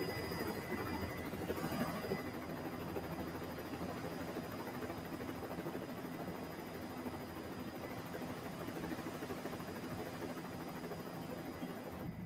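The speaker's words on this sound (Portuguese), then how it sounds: "o helicóptero faz seu último pouso na Serra da Mocidade" A helicopter makes its final landing in the Serra da Mocidade mountains, its engine and rotor a faint, steady broadband whir that holds evenly without a break.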